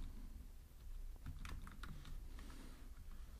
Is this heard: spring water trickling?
no